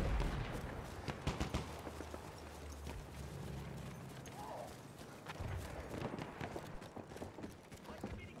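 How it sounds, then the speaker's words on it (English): Horse hooves clip-clopping at a gallop in the Battlefield 1 video game, a steady pounding run amid distant gunfire and battlefield noise, with voices talking over it. "Horse behind you guys."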